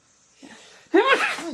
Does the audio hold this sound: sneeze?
yes